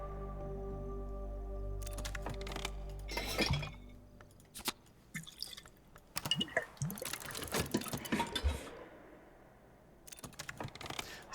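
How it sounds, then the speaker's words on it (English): A glass of water is poured in the Book of Hours video game: after a low hum cuts out, clicks and clinks give way to a stretch of trickling liquid and small glassy taps, quiet and close, with no talking. "another thing that I can do is pour a glass of water."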